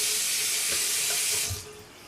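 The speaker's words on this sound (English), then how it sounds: "let me rinse my face real quick" Tap water running into a bathroom sink while a face is rinsed, a steady close hiss of flowing water with small splashes, fading slightly at the end.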